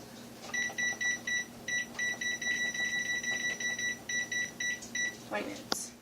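A kitchen oven timer is set while baking lemon bars, giving a long run of bright, evenly spaced electronic beeps in quick groups, close and loud, followed by a brief rustle.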